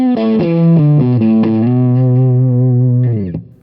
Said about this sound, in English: The idea is that different liquids will create different distortion sounds.